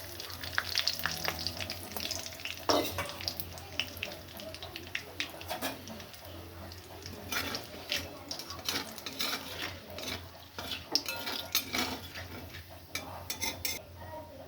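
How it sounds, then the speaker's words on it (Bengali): Whole garam masala, dried red chillies and two bay leaves crackle in hot oil left from frying duck eggs, a steady close sizzle with frequent utensil clinks and scrapes throughout. "ওই তেলে গোটা গরম মশলা ফোড়ন দিলাম, আর গোটা শুকনো লঙ্কা, আর 2টো তেজপাতা।"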